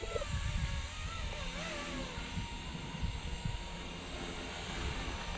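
A Blade 235CP RC helicopter flies overhead with a continuous buzzing rotor and motor whine, its pitch wavering as it maneuvers, moderately distant and faint against background noise.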